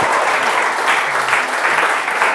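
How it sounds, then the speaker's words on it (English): Audience at a motivational talk about weight loss clapping for the speaker, a loud, steady burst of applause filling the whole short stretch without any voice over it. "Come on, guys, clap for me."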